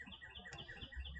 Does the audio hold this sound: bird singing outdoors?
yes